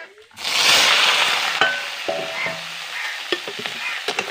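Spinach greens drop into a hot tempering in a village kitchen and burst into a loud sizzle, followed by frying hiss and scattered clinks of a spoon stirring against the pan.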